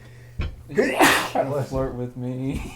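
A single sharp sneeze bursts out at a tabletop Dungeons & Dragons session, followed by close conversational talk from players.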